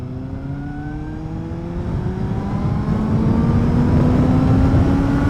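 A 2012 Suzuki GSR750A motorcycle's inline four petrol engine revving up, its smooth tone climbing steadily and growing louder over several seconds, heard close and alone.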